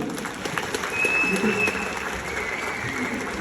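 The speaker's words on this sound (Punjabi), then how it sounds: "ਇੱਕ ਵਾਰੀ ਜ਼ੋਰਦਾਰ ਤਾੜੀਆਂ ਜਫਰੀ ਖਾਨ ਜੀ ਫਿਰ ਲਾ ਦਿਓ" An audience claps for comedian Jaffri Khan at a Pakistani comedy show in New Zealand, steady dense applause from a crowd, with a voice speaking over it.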